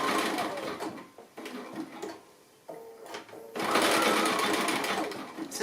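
A sewing machine stitches felted wool appliqué in short whirring runs that stop and restart every few seconds, ending in a longer, louder stretch of stitching.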